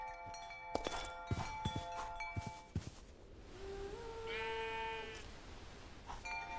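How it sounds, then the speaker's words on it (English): A sheep in the RLCraft video game gives one clear, wavering bleat in a quiet dark cave, after a run of scattered thuds and clicks. "It is a sheep."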